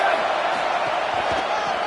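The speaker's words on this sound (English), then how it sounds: "This crowd trying to make life miserable for this offense." Steady stadium crowd roar from a college football video game, a broad continuous din with scattered shouts rising through it, loud and unbroken across the stretch with no clear talk on top.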